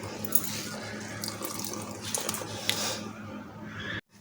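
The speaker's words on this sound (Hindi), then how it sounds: "इसको अच्छी तरह हम रुमाल के साथ निचोड़ लेंगे। देखिए कितना पानी निकलेगा।" Water is wrung by hand from washed bitter gourds squeezed inside a cloth, a close, steady trickle and splash of dripping liquid lasting a few seconds before stopping abruptly.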